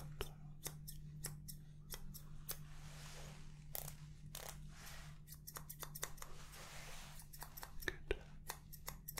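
Barber scissors snipping through hair in a quiet ASMR barbershop roleplay, close and crisp, with a steady run of sharp individual snips and brief pauses, soft low hum underneath.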